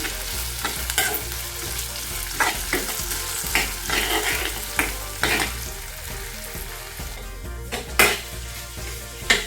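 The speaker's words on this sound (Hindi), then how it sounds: "हम इसको थोड़ी देर ऐसे फ्राई करेंगे ताकि प्याज और आलू सब कुछ एक साथ पक जाए।" Onion, chilli and potato fry over a low gas flame at home, a steady soft sizzle broken by repeated spatula scrapes and clinks against the pan, recorded close with no voices.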